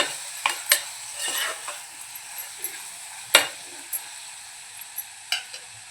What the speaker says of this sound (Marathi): इथे आपण जो टोमॅटो बारीक चिरून घेतलाय तो घालूया, छान मिक्स करूया।